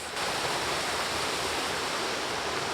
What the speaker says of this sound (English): As you can tell, we've made it to the waterfall, just there.